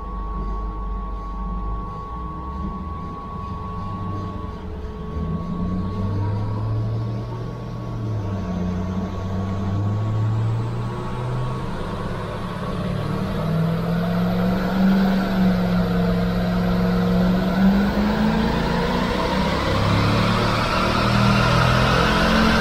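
A Mercedes-AMG running on LPG accelerates in third gear, its engine drone rising steadily in pitch and loudness from inside the cabin for over twenty seconds.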